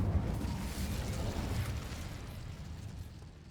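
A fiery Incendio spell bursts from the caster in Hogwarts Legacy, a soft whooshing flame blast that rumbles and gradually fades, fairly quiet overall.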